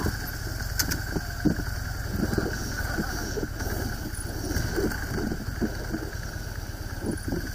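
A Harley-Davidson motorcycle engine runs at a steady low idle after an inspection ride, a continuous deep rumble with a faint pulsing texture, close and unbroken, with no talking over it.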